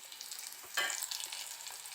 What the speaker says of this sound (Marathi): लसणाच्या पाकळ्या टाकणार आहे जे मी चिरून घेतले होते